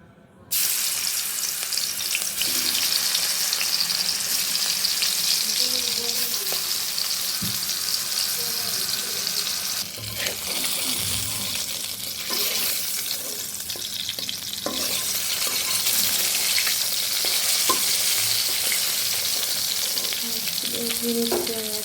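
Rohu fish pieces coated with turmeric and chili powder fry in hot oil in a pan, giving a steady, close sizzle throughout with occasional stirring clinks and a faint voice in the background.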